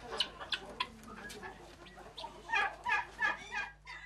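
Domestic guinea fowl and other poultry calling in a farmyard: a series of short, rhythmic clucking calls, faint at first, then louder, harsher repeated cackles toward the end.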